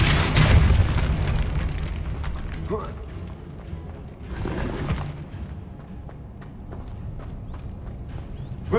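A Depulso spell blast in Hogwarts Legacy: a strong booming burst at the start and another surge midway, over rumbling game ambience, with a voice speaking.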